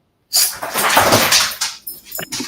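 A dog climbs up onto a kitchen counter, making a close burst of scrambling, scratching and thumping that tapers into a few lighter shuffles and taps.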